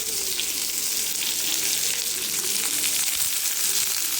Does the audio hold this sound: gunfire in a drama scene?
no